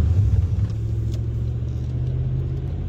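A Ferrari sedan's engine drones steadily while driving, giving a continuous, close, low rumble that holds even throughout with no voices over it.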